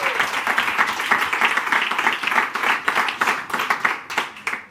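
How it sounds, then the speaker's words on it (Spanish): Clapping during a Parking Karaoke show: a brisk, continuous patter of several hands applauding, fairly close and even in loudness across the whole stretch, with little talk. "Míralo, un aplauso, hombre"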